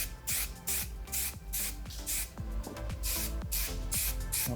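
Rapid bursts of a lightweight glossing spray misted onto styled hair, loud close hissing puffs in quick succession with faint handling noise between them.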